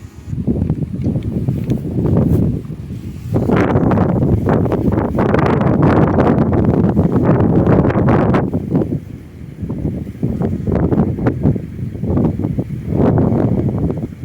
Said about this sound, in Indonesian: di atas sangat kencang sekali anginnya